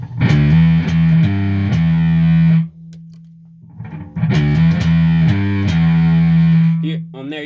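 Bass guitar played through a one-knob fuzz distortion circuit built on a breadboard: loud, sustained buzzy notes with a few plucked attacks, a quieter pause, then another fuzzy phrase.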